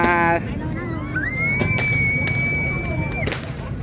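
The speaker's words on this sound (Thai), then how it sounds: "นู่นเขาจุดประทัด" Firecrackers go off at a Loy Krathong festival at Rangsit, with several sharp, separate bangs and a rising whistle over a busy crowd and nearby chatter.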